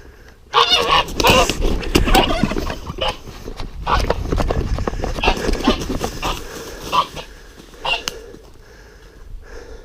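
Four geese being caught and moved to their house: bursts of honking and hoarse squawks come in clusters, close by, mixed with scuffling and handling noise.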